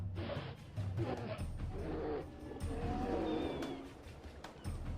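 A polar bear roars and growls in low, rumbling bursts at moderate distance, with a rough, throaty tone and short pauses between vocalisations.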